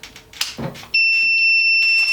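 A UV printer's sensor alarm, a steady high-pitched electronic tone, starts abruptly at power-up and holds continuously at a loud level after some brief clicks and handling noises.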